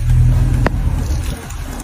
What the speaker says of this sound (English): Okay, I restart the car now.